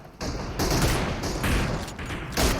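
Rapid bursts of gunfire from the video game PUBG crackle loudly and close, coming in dense repeated volleys with short gaps between them, no voices heard.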